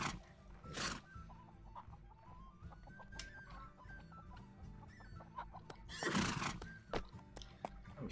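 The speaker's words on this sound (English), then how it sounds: "That clop noise is freaking way loud in my headphones." Horse sounds from a Civil War era video game set in 1861, with a whinny and hoof clops repeating close and loud over ambient game noise, with brief chicken-like clucks mixed in.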